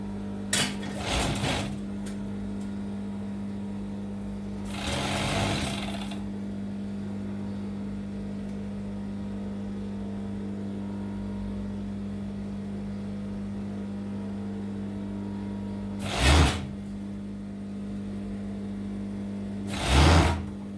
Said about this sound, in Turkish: Şimdi bacaklardan başlıyoruz dikmeye.